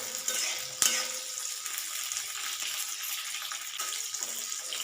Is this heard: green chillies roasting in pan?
yes